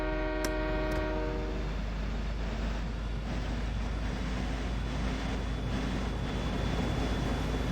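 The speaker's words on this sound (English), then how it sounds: "Yeah, I hear you, train." Train in the game Farming Simulator 17 sounds its horn in two short blasts, then rolls on as a steady low rumble that continues to the end.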